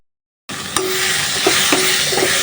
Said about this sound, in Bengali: তো মশলাটা ভালোভাবে কষায় নিচ্ছি